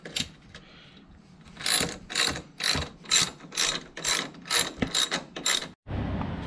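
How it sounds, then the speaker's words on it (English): A hand ratchet backs out screws from a Can-Am X3 roof with a steady run of loud, evenly spaced clicking strokes, close up and with no talking. "So we're gonna put it onto our ratchet and just go to town on these."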